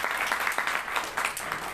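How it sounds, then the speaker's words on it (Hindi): Applause from a church congregation at a Seventh-day Adventist divine service in Jalandhar, a steady, fairly loud clatter of many hands that fills the short moment on its own. "एक बार जोरदार तालियां इस नौजवान"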